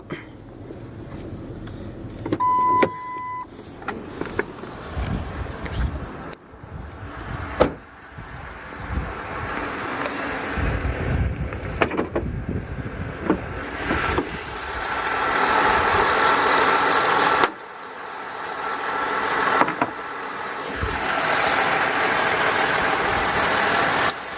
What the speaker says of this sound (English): Kind of idles a little low, but it keeps going.